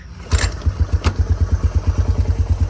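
A Yamaha Tri Moto 200 engine idles close by, with a steady, rhythmic putter and clattering pulses after a brief rev at the start. No other sound competes with it.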